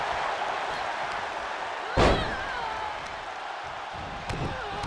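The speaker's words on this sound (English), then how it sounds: "Just slams into the mat." A wrestler slams into the mat in the WWE 2K22 video game, a single sharp heavy impact standing out once over a steady arena crowd din, with a smaller thud near the end.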